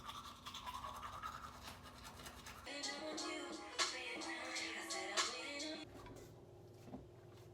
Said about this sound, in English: I got a red toothbrush because it goes quicker,